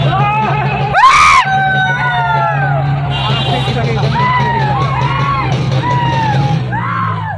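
Large crowd yelling and whooping near a herd of wild elephants camped in a rice paddy, with a loud shout rising above a constant babble of many voices and scattered calls throughout.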